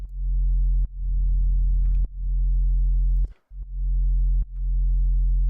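Deep synth sub-bass tone holding steady with a subtle low-level frequency wobble, sustained alone across several seconds with brief dips and clicks where notes retrigger.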